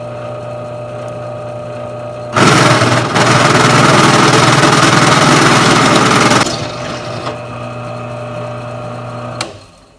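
A drill boring out a John Deere 450 tractor alternator pulley with oil, a loud steady high whine for about four seconds starting abruptly, over a constant background hum, then tapering off.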